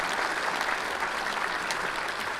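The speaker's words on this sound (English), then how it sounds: "Give yourself another applause." Audience applause from a live studio crowd, a steady dense wash of clapping that holds at an even level throughout, with no voices on top.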